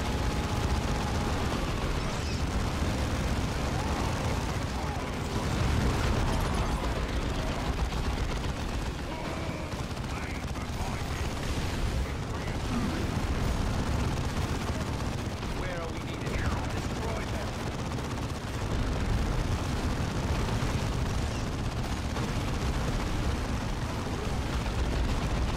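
Explosions and gunfire from combat in Warhammer 40,000: Dawn of War II, a dense, continuous rumble of blasts and shots that runs throughout with no clear breaks, with voices talking over it.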